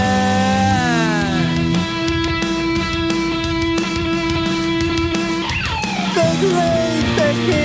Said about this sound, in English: the melody between them was very empty, so I added a solo to it